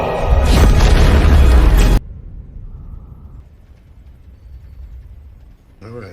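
A loud, dense explosion blasts for about two seconds as a portal is destroyed in a film scene, then cuts to a low rumbling quiet with faint tones.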